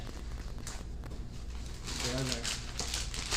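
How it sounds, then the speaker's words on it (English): A resealable plastic bag is handled while putting together a budget first aid kit, with soft crinkling and rustling at close range that grows louder toward the end, accompanied by a voice talking. "we're going to get out our resealable plastic bag"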